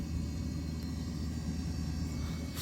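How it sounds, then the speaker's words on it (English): The condenser fan of a GE refrigerator, hot with intermittent cooling, runs as a steady low rumbling hum with a faint airy hiss, constant and close, with no talk. "And look, the condenser fan is running."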